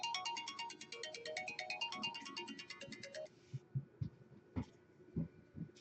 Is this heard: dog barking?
no